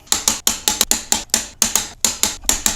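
A ratcheting torque wrench tightens lift bolts on a 3rd-gen Toyota 4Runner during a 2-inch lift install, giving loud, close bursts of fast ratchet clicks in a steady repeating rhythm, with no talking.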